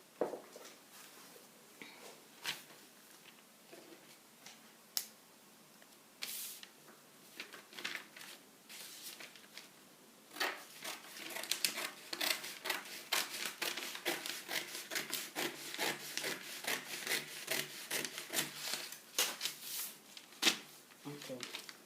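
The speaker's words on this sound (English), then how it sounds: "I'll cut the sleeve." Scissors cut the sleeve off a shoulder-padded peplum blouse in close, quiet, rapid snips. The cutting is sparse at first, then becomes a dense crunching run through the fabric, with faint talk alongside.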